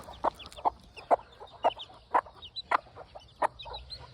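A free-range gamefowl hen clucks in a steady series of short, sharp calls, about seven or eight over a few seconds, close by with quiet farmyard background.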